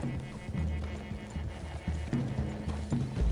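Horses in the video game Red Dead Redemption 2 clop steadily along with hoof falls, snorts and tack jangling, fairly close and continuous, with no speech.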